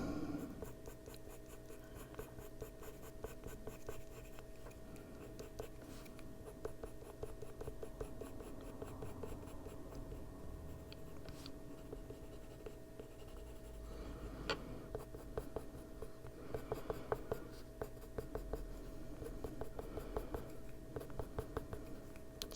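Coloured pencil making tiny marks on paper in an adult colouring session, a steady run of soft, close scratchy strokes that continues quietly for the whole stretch with no talk.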